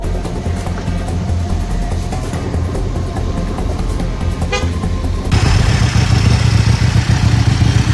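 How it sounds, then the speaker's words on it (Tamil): A motorcycle engine idles with a steady putter, then abruptly grows louder and rougher as it revs up and keeps running close by. "விமலண்ணாண்ட பைக்கை வந்து இப்போ ஸ்டார்ட் பண்ணி பார்க்க போகிறோம"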